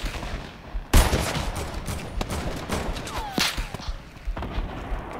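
Enemy gunfire cracks out in a video game shooter, with a loud opening shot followed by a scattered run of sharp reports and thuds at close to middle distance.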